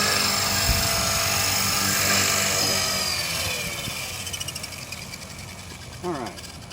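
A 450-size radio-controlled helicopter flies nearby, its rotor and motor producing a loud whining drone that shifts in pitch and gradually fades as it moves off, with a brief mechanical buzz near the end and a voice talking.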